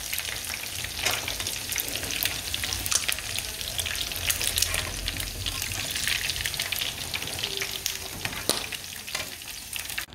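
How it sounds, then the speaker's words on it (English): Oil sizzles and crackles in a pot as Nigerian stew fries, a dense steady hiss with occasional stirring scrapes and pops, no voices. "we are the set of frying the stew"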